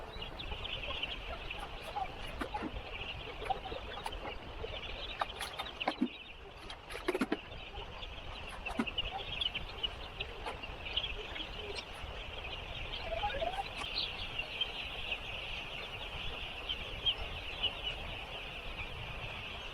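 Chickens in a poultry farm shed give a steady, faint chorus of clucks and chirps, with occasional sharper calls and scattered clatter over a continuous background hum.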